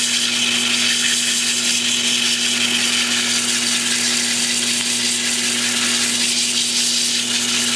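Sandpaper is held against a wooden piece spinning forward on a lathe, a steady close hiss and rasp over the constant hum of the lathe motor, running unbroken throughout with no talk.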